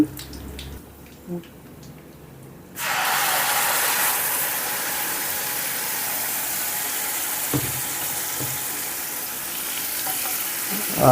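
Peanut chutney tipped into a hot tempering with asafoetida makes a sudden loud sizzling burst that settles into a steady close frying hiss, after a quieter stretch of faint clinks, with a few soft stirring knocks.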